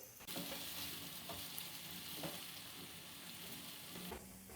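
Sliced onions deep-fry over high heat in about a cup of oil until brown, a dense, unbroken bubbling sizzle that stays even and close from start to finish.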